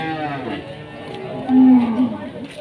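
Local cattle at the Gurugok livestock market give one loud, close moo after a brief stretch of quieter lowing and market noise.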